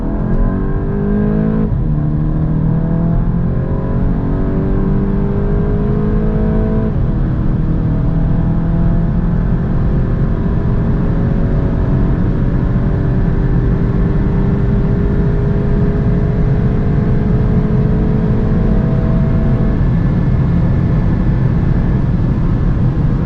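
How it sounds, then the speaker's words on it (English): A VW Golf 8 GTI with a DSG gearbox accelerates hard from 100 to 200 km/h, its engine note climbing loud and close in long rising sweeps broken by two quick gear shifts early on, then holding one sustained pull. "let's now see how fast the GTI goes from 100 to 200"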